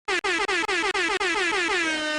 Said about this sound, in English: After I do a quick air horn